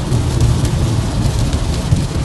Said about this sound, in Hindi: और बारिश जो है वो रुकने का नाम ही नहीं ले रही